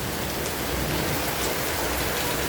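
A downpour near a home makes a loud, unbroken roar of rain striking surfaces close by, constant throughout with no speech.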